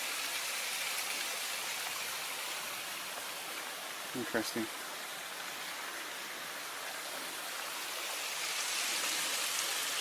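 A small creek near the Mile 18.1 trestle in autumn, running low, gives a steady, soft broadband rush throughout, with a voice speaking briefly in the middle.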